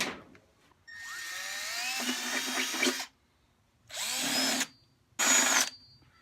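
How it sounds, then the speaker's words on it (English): A power drill whirs in three bursts: one long run, then two short ones, loud and close with brief silences between. "that's where we're gonna try to drill one more hole."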